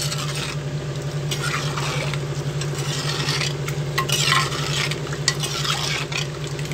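Fish curry being stirred in a pot, a continuous close bubbling sizzle with repeated scraping and clinking of a spoon against the metal through the whole stretch, no one talking.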